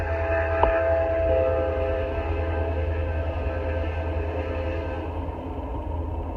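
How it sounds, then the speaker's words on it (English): A train rumbles past near a lake with a steady low roar and a sustained horn-like tone, fading slightly toward the end. "the train's going by. So I'll let the train go by."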